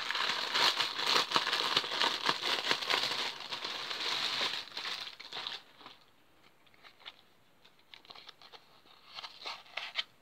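Close plastic crinkling and rustling as a tube scarf package is opened, busy and steady at first, then thinning to scattered soft crackles.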